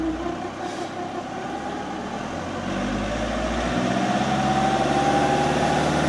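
Vauxhall Zafira B 1.7 CDTi diesel engine with loss of power, black smoke and no boost, heard up close as a steady idle whose note gradually rises and strengthens as revs increase, no talk.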